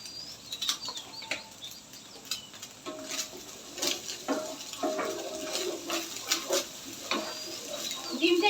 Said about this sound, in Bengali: একটু ভাজা ভাজা হবে ডিমের একটা ভাজা ফ্লেভার আসবে